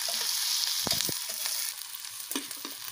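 Masala frying and being stirred in a pan while preparing a fish curry, a steady high sizzle with a few soft scrapes of the spoon, close and continuous throughout.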